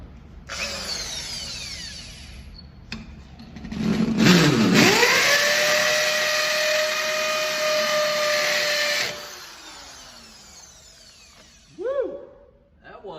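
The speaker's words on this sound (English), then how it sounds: "And then here we go with the hammer drill." A hammer drill bores into a floor while a room's flooring is being raised: a sharp start, then a loud sustained grinding whine for several seconds that winds down, followed by a few short revving bursts.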